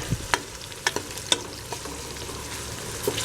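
Onions fry in a pot for beef trotter paya, giving a continuous low sizzle broken by a few sharp spatula clinks and scrapes at irregular intervals.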